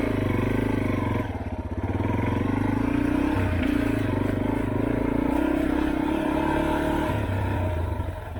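Off-road vehicle engine idling on the rocky Tahuya Raines Grade trail, a steady low rumble close by with slight variations and some faint rattling.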